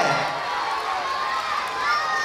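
Students at a school house closing ceremony cheering and shouting together as a steady, close crowd roar lasting the whole moment, with voices rising and blending over it.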